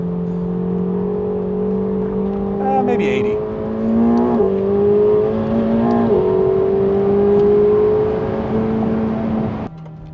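A McLaren 750S supercar drives and accelerates, its engine note climbing steadily through repeated rising pulls with gear-change steps, heard from inside the cabin under a brief bit of talk.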